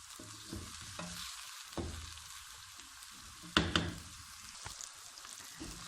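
Onions sizzle and crackle steadily in a hot pan while browning for karahi gosht, with occasional stirring scrapes and a couple of sharper knocks.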